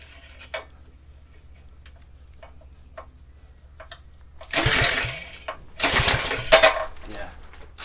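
A mini bike engine with a leaking carburetor is cranked but fails to run, giving faint ticking and a few short bursts of sputtering engine noise that die away between quiet gaps.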